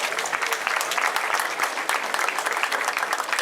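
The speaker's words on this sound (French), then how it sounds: "Merci de l'applaudir." A crowd at a cycling race podium claps for the stage winner with sustained, dense applause at a steady level throughout, moderately distant, with no talking.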